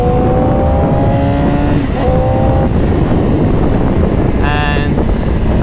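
A Yamaha R6 sport motorcycle is being ridden. Its engine whines loudly and rises in pitch through the gears, heard close up under heavy, constant wind rush.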